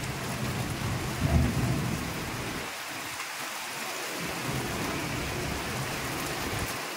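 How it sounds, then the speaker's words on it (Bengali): Steady rain pours down in Serampore, West Bengal, with deep thunder rumbling through the constant hiss, loudest near the start and easing into a broad wash of falling water. "দেখতে পাচ্ছ বৃষ্টি শুরু হয়েছে, বেশ অনেকক্ষণ আগেই শুরু হয়ে গেছে।"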